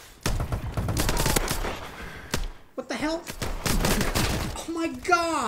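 Gunfire in the Call of Duty Advanced Warfare game, rapid bursts of shots layered with thuds and impacts, loud and near, with a person talking over part of it.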